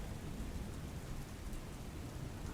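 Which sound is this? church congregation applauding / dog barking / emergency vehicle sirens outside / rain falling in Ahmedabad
rain falling in Ahmedabad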